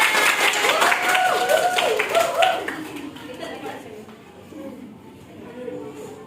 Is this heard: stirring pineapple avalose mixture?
no